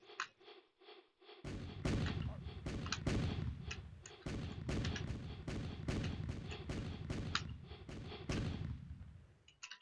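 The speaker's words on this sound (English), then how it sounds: "Now we'll get over here and we'll shoot them." Mini Map Kingdom game gunfire bursts out in a rapid, loud volley of repeated shots, closely spaced for several seconds after a brief quieter opening of game tones.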